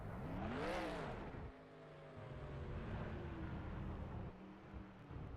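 A stock car engine running rough in the NR2003 racing game: a loud pass-by sweep at the start, then a steady, uneven motor drone that continues on its own throughout.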